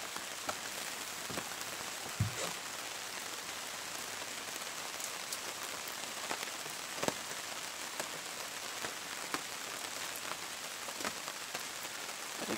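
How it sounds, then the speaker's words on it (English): Rain pattering steadily on a tarp overhead, a dense even hiss with occasional louder drips, heard close and continuous with no talk. "it's been so rainy, we got this tarp up here, which I actually really like"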